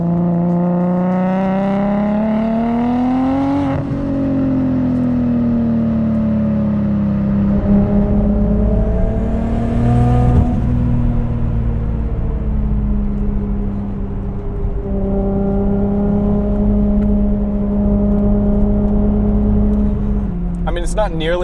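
A 600 hp Nissan R33 Skyline with an RB25 engine accelerates hard on a track, its loud, close engine note climbing steadily in pitch, dropping at a gear shift, then pulling up again.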